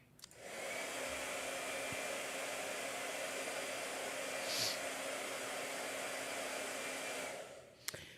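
A blow dryer runs steadily for about seven seconds, starting and stopping abruptly, with a loud, even broadband whoosh and no talking over it.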